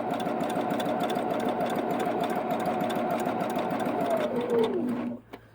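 A sewing machine backstitches along a T-shirt hem, a loud, close, fast steady whir that slows and winds down near the end, then stops, with no talking.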